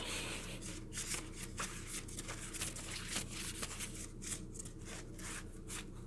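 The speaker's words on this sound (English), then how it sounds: "shuffle them like a deck of cards, except I can barely shuffle" Cards are shuffled up close in a run of quick riffling and rubbing bursts, repeated over and over above a low steady hum, with no talking.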